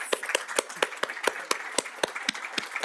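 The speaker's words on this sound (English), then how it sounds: "Yeah, round of applause." Applause at a multicultural health week launch event, with a run of sharp, fairly evenly spaced claps heard close and alone, steady throughout.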